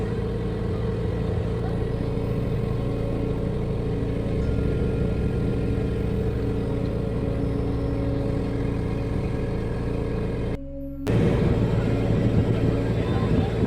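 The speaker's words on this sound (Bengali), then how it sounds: "আমি মন্দির থেকে রিটার্ন হয়ে যাচ্ছি আবার সেই নৌকাতে করে" A motorboat ferries passengers back across the river from Kamakhya temple, its engine a loud, steady, close drone that runs throughout, with a brief dip near the end.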